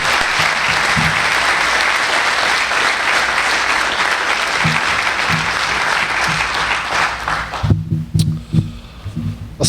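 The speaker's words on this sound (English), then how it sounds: "give them a round of applause for their support" Loud applause from a crowd at a Citizen of the Year awards event, sustained clapping that thins out near the end into scattered claps.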